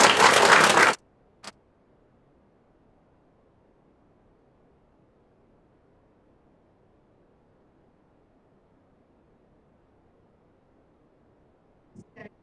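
Audience applause at an awards ceremony comes as one short, loud burst of clapping that cuts off abruptly after about a second, followed by near silence and a few faint stray sounds at the end.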